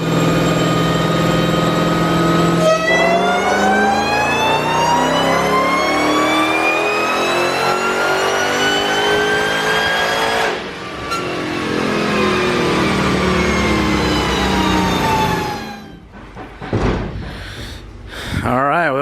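Dodge Demon engine on a dyno pull with pump gas, revving loud and close in long rising sweeps up through the gears, then dropping back to idle with a few final blips.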